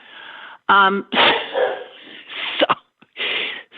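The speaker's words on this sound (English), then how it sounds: "so now your dogs are barking?" A dog indoors barking in a few loud, close bursts with yips and whimpers between, during a live home broadcast, with a person talking in the gaps.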